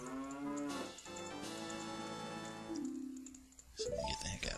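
A cow moos in the video game The Legend of Zelda: Ocarina of Time, a long drawn-out tonal lowing that rises and falls, close and clear with no talk.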